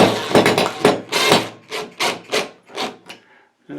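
About eight sharp hammer blows land one after another at an uneven pace, driving drywall anchors into a bathroom wall, each a close, solid knock into a hard surface.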